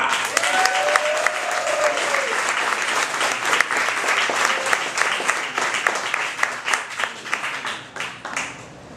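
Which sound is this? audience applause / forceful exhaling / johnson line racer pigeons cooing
audience applause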